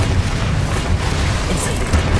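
A Bombarda blasting spell goes off in the Hogwarts Legacy video game, a dense low boom with a crackling rumble that fills the whole moment at steady loudness, with brief swells near the start and end.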